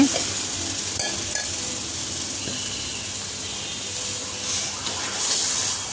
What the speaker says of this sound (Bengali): এখন অনবরত নাড়তে হবে, তা না হলে নিচে লেগে যাবে